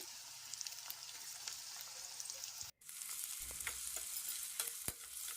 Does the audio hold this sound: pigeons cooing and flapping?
no